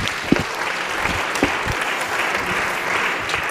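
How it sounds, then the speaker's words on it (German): Steady audience applause after a conference talk on digital cultural heritage, a continuous bed of clapping with a few sharper nearby claps standing out. "Applaus"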